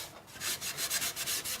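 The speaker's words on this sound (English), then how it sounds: "see what it looks like with the sanding" Rhythmic rasping strokes of sandpaper rubbing against a wooden bowl, repeating quickly and evenly up close.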